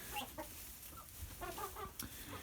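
Chickens cluck softly in short, scattered bursts, a few close birds murmuring over a quiet background with no talking.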